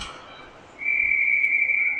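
A referee's whistle at an ice hockey training camp scrimmage blows one sustained, steady high blast after a stretch of quiet rink ambience.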